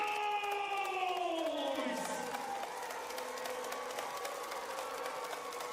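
A basketball arena crowd at a B.League game between Rizing Zephyr Fukuoka and Shiga Lakes cheers loudly, a rising roar with whoops that settles into sustained noise.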